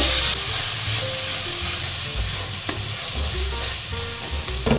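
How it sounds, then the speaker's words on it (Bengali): Spices such as turmeric and Kashmiri chilli powder fry and sizzle in a pan for chicken curry while being stirred, giving a steady close hiss with scraping stir strokes and an occasional sharp clink. "হলুদ গুঁড়ো পরিমাণ মতো কাশ্মীর লঙ্কার গুঁড়ো কালারের জন্য খুব ভালোভাবে মশলাটা আমি কষিয়ে নেব"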